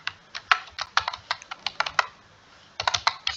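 Rapid, irregular keystrokes on a computer keyboard while Java code is typed, close and crisp, with a short pause before a final quick burst of clicks.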